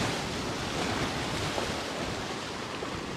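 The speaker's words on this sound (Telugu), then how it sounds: "సముద్ర కెరటాలు ఎలా ఉన్నాయో అసలు చాలా దారుణంగా ఉన్నాయి" Rough sea waves surge and crash onto the beach by the Antarvedi lighthouse during a cyclone, a continuous loud roar of surf mixed with wind buffeting the microphone, with no voices.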